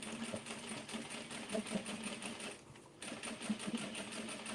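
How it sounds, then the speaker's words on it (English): A sewing machine runs a steady, buzzing stitch along the bottom of a seam on an oversized denim tote, pausing briefly partway before whirring on again. "Now I'm gonna add my little stitching right underneath"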